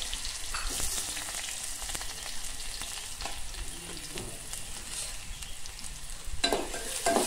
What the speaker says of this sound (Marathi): तेल चांगलं तापलेलं आहे, आता आपण फोडणी देऊन घेऊया।